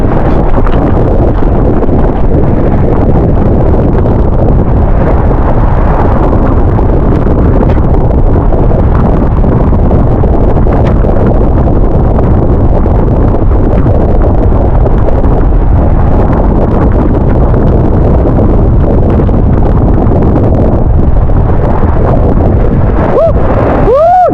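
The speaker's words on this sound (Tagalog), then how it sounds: "Sobrang lakas ng hangin." Strong thunderstorm wind batters the microphone at a fishpond in loud, continuous gusts and rumbles, with rustling throughout and a brief whooping voice near the end.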